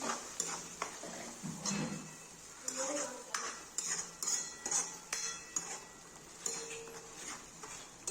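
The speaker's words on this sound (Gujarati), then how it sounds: "જે પેસ્ટ આપણે તૈયાર કરી છે તે પેસ્ટ આપણે અંદર નાખી દઈએ અને બરોબર મિક્સ આપણે કરી દઈએ" A spoon stirs spice paste into potato and fenugreek curry in a pan, with repeated scraping and clinking against the metal over a faint sizzle, close and quiet.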